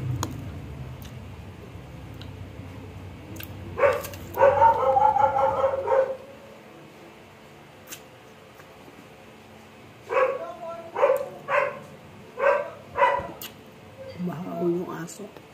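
A dog barks indoors during an apple-eating session, first one short cluster of yaps, then after a pause a run of about five sharp barks spaced a second apart, fairly close.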